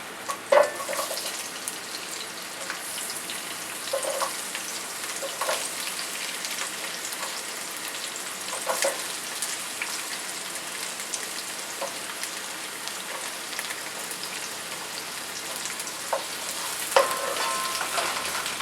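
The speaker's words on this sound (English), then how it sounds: "Add your onion," Onion sautés with garlic in a pan over medium heat for pork and chicken adobo, giving a continuous rain-like crackling sizzle with a few louder stirring clicks scattered through.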